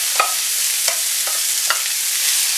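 Onions fry in heated oil in a pan, a steady bright sizzle with a few light stirring scrapes spaced across it, close and without talk.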